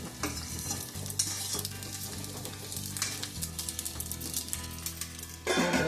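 Drumstick pieces (moringa pods) frying in oil in a wide pan for a tomato and drumstick pickle, a steady close sizzle with repeated scraping and stirring strokes, a louder burst near the end, no talk.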